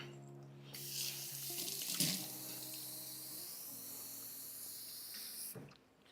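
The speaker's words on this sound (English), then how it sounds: "I need some more water because the noodles are absorbing all the water" Tap water runs into a pot of simmering noodles in a home kitchen, a steady hissing stream that starts suddenly, swells briefly with a splashy burst, then flows evenly for several seconds before cutting off.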